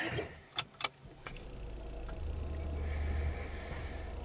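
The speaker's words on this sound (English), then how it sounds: "Let's start the car up and I'll show you something." A 2023 Volvo S90 engine cranks and catches, settling into a steady low idle rumble after a couple of sharp clicks, close by.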